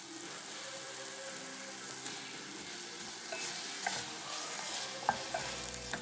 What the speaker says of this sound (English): I allowed the apples to cook for about 5 minutes over medium.